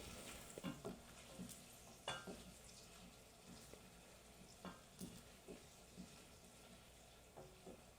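A utensil stirs food in a hot pan with browned butter, giving soft, irregular scraping and clinking strokes over a faint sizzle, quiet and close, with no talking.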